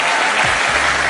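Dense, loud audience applause for a choir in a church, a continuous wash of many hands clapping together with faint voices mixed beneath.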